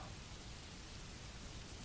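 Rain falls steadily outside a phone booth, a dense even hiss of drops with no gaps or voices.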